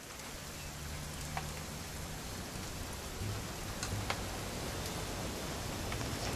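Steady rain falls in the video game What Remains of Edith Finch, an even soft hiss with scattered faint drop ticks and no voices.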